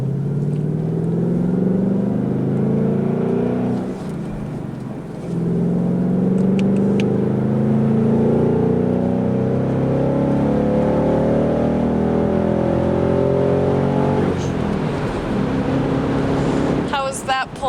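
Ford Mustang GT convertible with a V8 engine pulling hard, a steady low engine drone rising in pitch through gear changes under continuous talk from the cabin.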